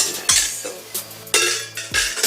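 Chocolate cake batter stirred in a bowl with a utensil, giving three scraping, clinking strokes in an uneven rhythm, close and clear with no talking.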